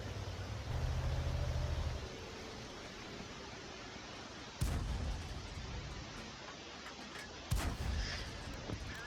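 Tank guns fire in a World of Tanks Tier 6 Strongholds battle: two sharp, heavy booms, several seconds apart, over a low constant background hiss, fairly faint overall.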